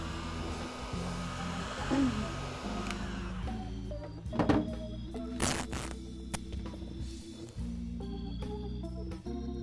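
A dryer blows steadily over tape on a painted craft pot, a continuous whirring hum that shifts as it moves, with some handling noise partway through.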